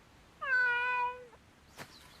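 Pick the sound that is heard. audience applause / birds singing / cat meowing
cat meowing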